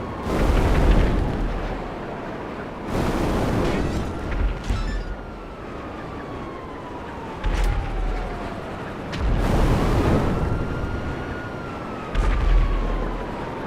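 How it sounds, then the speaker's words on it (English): Bombs dropped from a plane burst on the ground in GTA Online, several loud booming explosions spaced a few seconds apart over a steady droning engine tone that rises and falls, with no talk. "I think I dropped the bomb on my friends"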